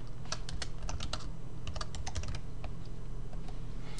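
Quick keystrokes on a computer keyboard as a blog title is typed, a steady run of close, crisp clicks in small bursts over a low background hum, with no talking.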